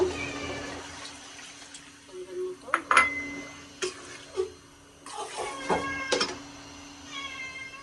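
A pet cat meows repeatedly in a home kitchen, crying for food while a fish-head curry cooks, with several distinct mid-distance cries mixed with faint clinks of pots and utensils and brief background voices.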